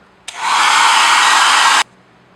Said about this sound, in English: Okay, round 2 with the hairdryer.